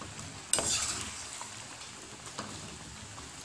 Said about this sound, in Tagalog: Haluin lang natin ng dahan-dahan.